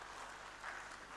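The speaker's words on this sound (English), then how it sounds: "the minister deserves a louder round of applause than that" Audience applause for a minister at a university project launch event, a steady, fairly faint patter of clapping throughout with no speech over it.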